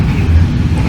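Cabin of the Kamandaka passenger train while riding, a steady low rumble and hum filling the car, constant and fairly loud, with no talk.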